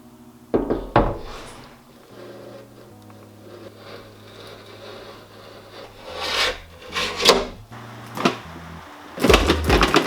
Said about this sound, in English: a razor blade to go over the old windscreen to scrape all the old stuff off of it, which I'm gonna do now